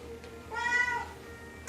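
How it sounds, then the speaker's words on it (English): A kitten gives a single short, high meow, close and clear over a faint background hum. "And this is Stormy, the best kitten of the year."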